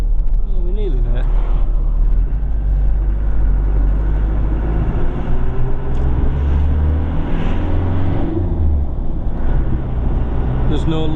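A Land Rover 90 on the move, a loud continuous low engine and road rumble from inside the cab, with a voice talking over it.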